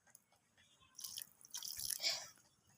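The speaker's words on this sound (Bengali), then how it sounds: "তো এরপর আমি এখানে জল অ্যাড করে দেব সমস্ত কিছু সিদ্ধ হওয়ার জন্য" Water is poured in small amounts into a cooking pot of vegetarian banana-flower dalna, making a faint, close splashing and trickling for about a second and a half.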